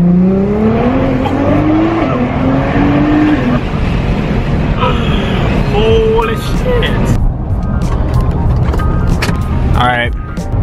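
A 1000-horsepower Nissan GT-R accelerating hard, its engine note climbing in pitch through the gears with loud turbo whine and road roar, close up from inside the car.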